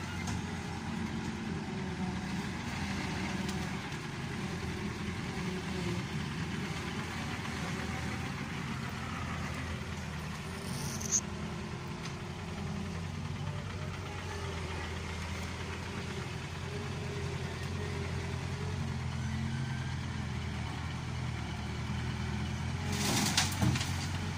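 A Bobcat shovel loader in Pakistan, smoking heavily, idles with a low, even engine rumble that stays quiet and steady throughout, with a faint clank near the end.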